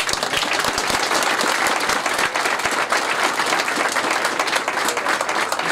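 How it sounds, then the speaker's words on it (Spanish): An outdoor crowd at a biker fest applauds loudly and steadily, a dense wash of clapping with sharp individual claps standing out at the start. "Muy bien, un aplauso"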